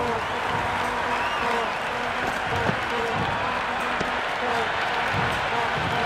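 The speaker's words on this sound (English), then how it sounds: "the crowd have joined the party. It's pretty noisy at the ground." Crowd at a cricket ground during a Nepal versus Netherlands T10 match cheers and applauds in a steady, dense roar that holds loud throughout, with commentary talk over it.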